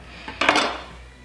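A knife cuts into a smash burger on a Cuisinart 360° griddle, a single short metallic scrape and crunch lasting about half a second, close and clear with no talking.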